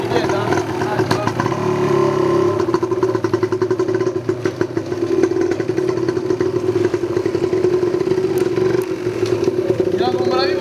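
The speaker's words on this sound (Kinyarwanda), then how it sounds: "ukarekura amburiyaje buhoro buhoro, moto igenda nta kibazo." A motorcycle engine idles and then pulls away as the rider slowly lets out the clutch, a steady mid-pitched rumble with some clatter that continues close by and loud for several seconds.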